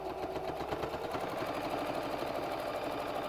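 Sewing machine top stitching fabric for a bunny ear, a rapid, even mechanical chatter of needle strokes running continuously at moderate volume, no one speaking.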